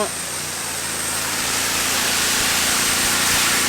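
A Truck Power V12 pulling tractor engine runs loud and continuous at a tractor pulling event, its broad roar holding steady with a slight rise in intensity.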